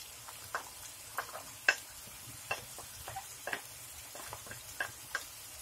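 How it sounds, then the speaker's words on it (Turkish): Light sizzling of onions and garlic sautéing in a pan with scattered ticks and clicks, as if food is stirred now and then; fairly quiet, no voices. "Kavurmaya devam edelim."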